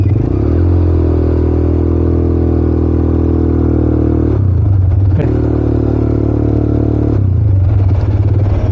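Motorcycle engine running loud and close at a steady, even drone, with a brief clattering break midway before the steady note resumes.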